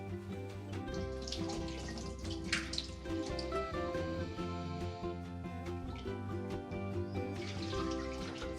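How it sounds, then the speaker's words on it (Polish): Water is poured off rice being rinsed in a bowl, giving close trickling and dripping splashes over a steady bed of background music. "Po chwili wodę wylewamy i powtarzamy ten proces 5, 6, a czasem nawet 7 razy"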